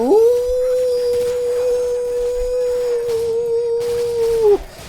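Attack dog in the Call of Duty video game letting out one long, loud, sustained howl that holds a steady pitch for several seconds before breaking off, close and clear with no talking.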